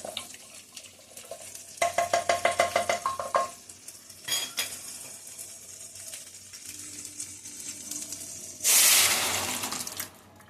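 Mashed carrots stirred in hot oil in a pan for carrot halwa, with rhythmic scraping strokes early on, then a burst of loud frying sizzle near the end.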